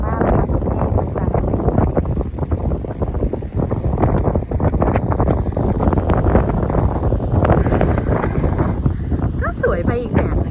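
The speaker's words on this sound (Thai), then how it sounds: "ลมแรงมากนะคะที่นี่" Strong gusting wind sweeps across the sand dunes of Gran Canaria, buffeting the microphone in a loud, continuous rumble throughout, with faint voices briefly under it.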